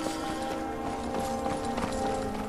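A horse running off in Skyrim, rapid clip-clop hoofbeats at moderate distance beneath a droning musical bed, steady and continuous.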